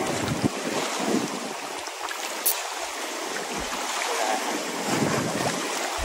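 Strong wind buffets the microphone in continuous gusts, a rough roaring rush with low thumps, out on open water on a fishing trip, with no voices.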